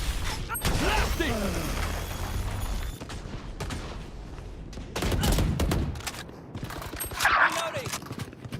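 Bursts of gunfire in the tactical shooter game Valorant, in short loud volleys separated by quieter stretches with mechanical clicks and creaks, while a game announcer's voice calls out over the action.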